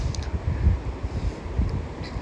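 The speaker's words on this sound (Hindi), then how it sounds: "वहाँ काफ़ी अच्छी हवा चलती है" Steady wind blowing across the open courtyard of Neemrana fort palace, a continuous low rumbling rush with gusty swells, fairly loud and close to the microphone, no voices.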